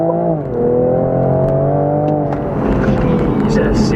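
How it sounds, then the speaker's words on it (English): A Toyota GR Supra punching hard from about 20 mph on a public road, its engine rising sharply in pitch as it accelerates, heard from inside the cabin and loud and close. "slow it down to about 20 mile an hour and just do a real punch roll"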